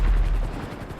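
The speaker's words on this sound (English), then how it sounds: "This thing only shoots 4 missiles." An Annihilator helicopter in GTA 5 Online looses a missile barrage in one short, loud, deep boom-and-rush with heavy low-end punch that fades within a second.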